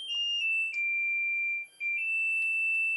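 A kitchen oven timer alarm rings as a steady, piercing high electronic tone, loud and close, holding for several seconds with one brief dip before resuming, with no talking over it.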